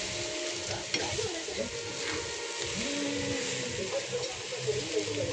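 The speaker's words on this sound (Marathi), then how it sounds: "आणखीन थोडी फ्राय करायची हिला." Egg bhurji with chopped coriander sizzles on a hot tawa, a soft continuous crackle broken by scraping strokes of a spatula stirring it, fairly quiet and close.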